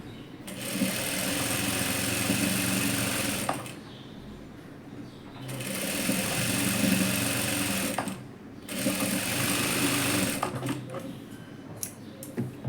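A sewing machine stitches fabric for a dress in three sustained runs of fast, steady mechanical whirring, close and loud, separated by brief pauses with light handling noise.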